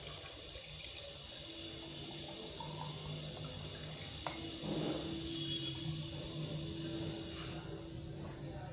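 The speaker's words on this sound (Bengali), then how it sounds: "এবার আমরা উপর থেকে চাটা ঢেলে দেব।" Tea is poured over a mango green iced tea, a faint, steady liquid trickle running continuously throughout at low volume.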